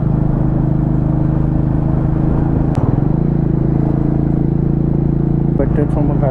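A motorcycle engine droning steadily while riding on a winding ghat road near Goa, a loud continuous low hum with wind rush, shifting pitch briefly midway as the rider changes speed.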